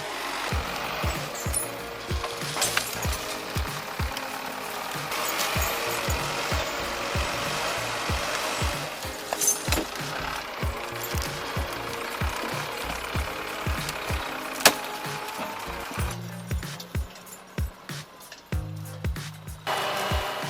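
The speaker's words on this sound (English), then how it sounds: "This forestry monster, the LKT-81, is struggling to haul massive logs down the slope." LKT-81 forestry skidder tractor hauling massive logs down a mountain slope, a rough diesel engine under load with repeated sharp mechanical clanks and knocks in an uneven rhythm, fairly distant and moderate in level.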